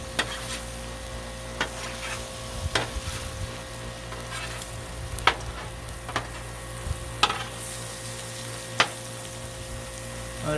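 Shrimp sizzling and frying on a Blackstone griddle for Cajun fried rice, a steady broadband hiss with occasional sharp scrapes and clacks of a spatula, close and fairly quiet, no voices.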